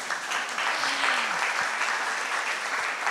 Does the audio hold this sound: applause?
yes